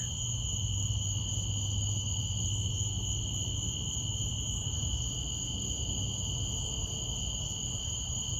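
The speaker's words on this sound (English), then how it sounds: "The bugs are out" Steady, continuous insect chirping at night in a cemetery, several high bands of crickets trilling without pause, loud and close over a faint low background hum.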